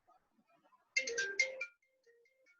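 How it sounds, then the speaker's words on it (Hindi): A phone ringtone chimes once in a short melodic burst of bright electronic notes, fairly clear against a quiet background, with no talking. "सॉरी वो फ़ोन आ गया था बीच में।"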